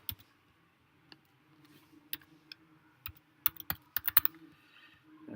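Soft, irregular keystrokes on a computer keyboard as a file name is typed, sparse at first and then quickening into a brisk burst of clicks over a faint steady room hum.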